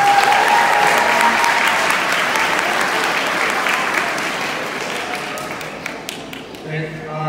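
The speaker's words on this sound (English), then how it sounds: "they do deserve a round of applause for that" Enthusiastic applause from an audience at a school sports awards event, a dense, steady clapping that slowly tapers off toward the end.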